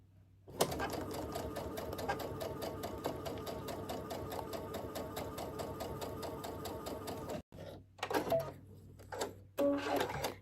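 A sewing machine stitches quilt pieces for a Churn Dash mini quilt in a rapid, even run of clicks that lasts several seconds, then stops abruptly, followed by a few short bursts and soft handling noises.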